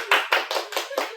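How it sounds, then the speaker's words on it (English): A handful of sharp hand claps, about five or six in quick uneven succession, ring out close and dry as two college friends are welcomed, with no talking over them. "give a huge round of applause for Ansha and Vidhi"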